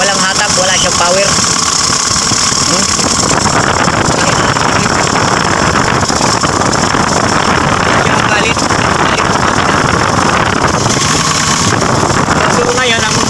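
A Mitsubishi L300 FB engine with low power that keeps stalling, suspected fuel pump assembly fault, runs with a steady, continuous drone from start to finish, close to the microphone, with wind noise over it.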